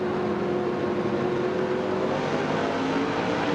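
NASCAR race cars starting at Calder Park Thunderdome, a steady loud wash of engine roar with a sustained engine tone, continuous and dense throughout, no voices.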